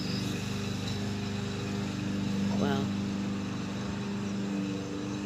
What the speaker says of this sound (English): here comes the lawnmower.